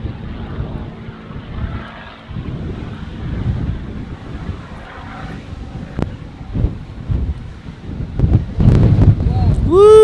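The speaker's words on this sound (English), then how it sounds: "Big wind, big wind." Strong wind buffets the microphone outdoors at the erupting Kilauea volcano, making a loud, low, rumbling roar with surging gusts that grow heavier toward the end.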